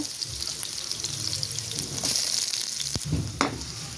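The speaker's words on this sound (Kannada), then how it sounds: "ಈರುಳ್ಳಿ ಚೆನ್ನಾಗಿ ಫ್ರೈ ಮಾಡ್ಕೊಳ್ಳೋಣ" Onion frying in hot oil with mustard seeds, for a goat-blood fry, gives a steady close sizzle with a few sharp stirring scrapes and clicks against the pan.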